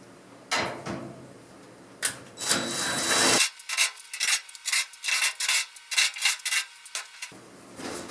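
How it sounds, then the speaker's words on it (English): A dryer's back panel is unfastened with a 1/4 inch nut driver: close, repeated scraping and rasping bursts in an uneven rhythm, with brief pauses between turns. "To remove the back panel, takes a 1/4 inch nut driver."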